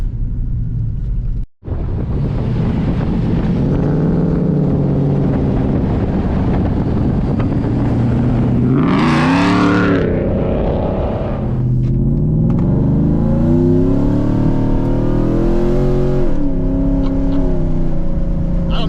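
A VMP supercharged Ford F-150 pickup launches under heavy wind buffeting on the microphone, engine roaring with a rising, surging pitch and a brief high whine midway, loud throughout.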